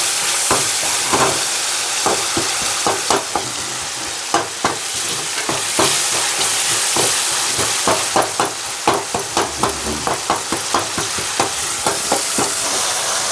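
Tomato and onion curry being stirred and mashed in a hot pan for a village-style meat curry, with a steady close sizzle and repeated scraping, squelching strokes of the spoon in a loose rhythm.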